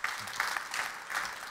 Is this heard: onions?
no